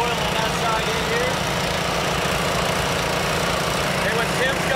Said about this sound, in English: Pull ahead on the starboard engine